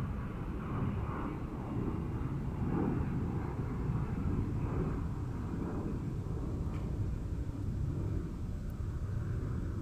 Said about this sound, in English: There's a plane going over right now.